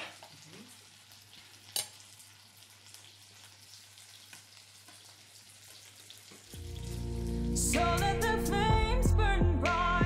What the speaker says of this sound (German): In der Zwischenzeit prasseln die Speckfisolen vielversprechend in einer Pfanne